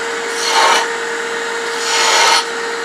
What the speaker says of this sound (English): such as this beading tool for the bottom. Got to brace it, come in here, and just scoop in.